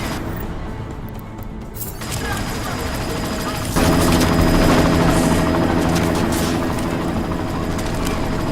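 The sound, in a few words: helicopter in video game Deus Ex: Mankind Divided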